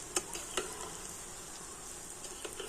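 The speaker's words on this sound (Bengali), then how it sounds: "একদম হালকা জাল দিয়ে তো এগুলোকে কিন্তু উল্টে পাল্টে খুব সুন্দর করে ভেজে নিতে হবে" Pieces of food fry in oil over a very low flame, making a faint, gentle sizzle broken by a few sharp ticking pops, with no one speaking.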